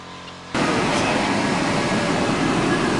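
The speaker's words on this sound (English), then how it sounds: "I've started the car and turned on the AC because I want you to hear what the compressor sounds like when it's going on and off" Car air conditioning switched on with the engine running, the compressor kicking in after a quiet moment and then a steady, loud broadband whoosh of blower and compressor noise continuing without a break.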